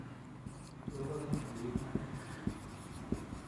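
Pen on paper while working through metric space examples, soft irregular scratches and taps, close and quiet, with someone talking over the strokes.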